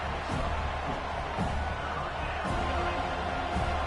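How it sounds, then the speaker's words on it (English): A loud, dense video game stadium crowd in an NCAA college football game roars steadily throughout, with occasional swells of cheering and whoops blending into a constant wall of noise. "It's early, but this crowd is fired up. Listen to this noise here."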